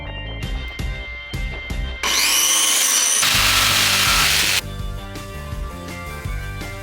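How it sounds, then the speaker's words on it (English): Wooden wall panels in a rustic workshop are screwed in with a power tool. Short whirring bursts alternate with two longer, loud driving runs, close up and with no talking. "First screwing in where they bulged out."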